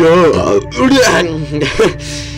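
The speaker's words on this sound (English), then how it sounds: "I got a burp" A man lets out a loud, close, drawn-out burp with several throaty pulses during gaming commentary, heard alone without speech.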